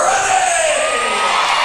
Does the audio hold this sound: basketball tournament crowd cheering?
yes